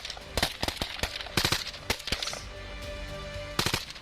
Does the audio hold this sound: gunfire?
yes